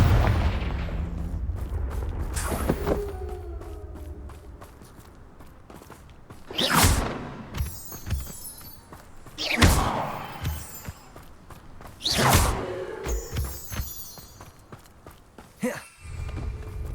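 Confringo fire-blast spells erupting into a few loud, separate booming explosions in the Hogwarts Legacy game, spaced several seconds apart over a steady low rumble, with crackling bursts in between.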